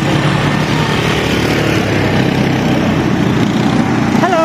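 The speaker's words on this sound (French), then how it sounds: "Il s'agit du quad." Quad bike (ATV) engine on Koh Samui, a steady loud motor drone droning continuously and close, with no talk over it.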